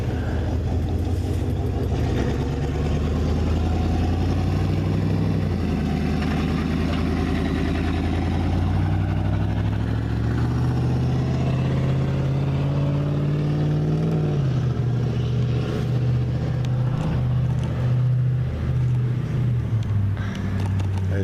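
A truck engine runs steadily and loudly for about twenty seconds with a deep droning hum, its pitch rising and then settling once as it revs slightly before easing back.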